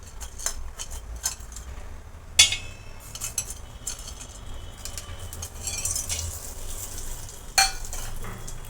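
Whole spices frying in hot oil in a pot for Kolhapuri chicken sukka, a steady soft sizzle under a few sharp clinks of a utensil against the pot, with no talking.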